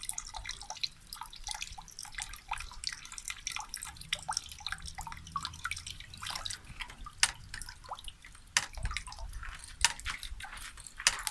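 Water trickles and drips steadily from the outlet of a homemade solar-powered pump, a close, continuous patter of droplets and splashes with no talking.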